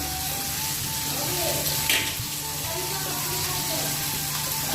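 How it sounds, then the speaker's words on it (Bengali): Oil sizzles steadily as snakehead (shol) fish fries in a pan, with a brief clatter partway through and faint background noise throughout. "আজকে এই তেলের মধ্যে মাছটা এখন ভাজা নিতেছিলাম"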